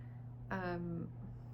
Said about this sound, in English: The automatic cat food feeders are going off, and it has like an audio message of me telling them that they're about to eat.